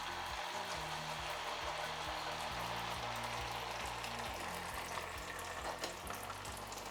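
Swedish potato pancakes (raggmunk) fry in hot bacon fat in a pan, giving a steady, close, even sizzle throughout with no talking.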